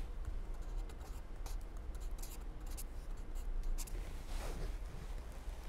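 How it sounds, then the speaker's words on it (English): Equations being handwritten during a multivariate statistics lecture: a soft, continuous scratching of pen on paper, close and steady for several seconds with no speech. "You have to write like this"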